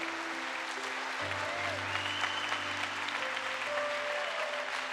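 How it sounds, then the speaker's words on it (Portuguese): A church congregation applauding during a worship service, steady broadband clapping sustained throughout with sustained organ or keyboard tones ringing beneath it. "Aplauda ao Senhor, irmão."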